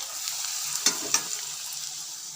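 Bhog offering food frying in a pan at a home puja, a steady sizzle with two sharp utensil clicks against the pan; no voices.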